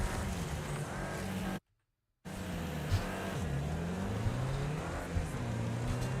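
Engine roar from cars racing in the video game Wreckfest, a steady loud drone with shifting revs, cut by a brief silent gap early on.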